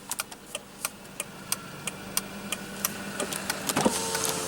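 Hazard lights flasher of a 2005 Mercedes-Benz C230 with a supercharged 1.8 L engine ticking in a steady, even rhythm, crisp clicks close by inside the cabin, with a few faint rustles toward the end.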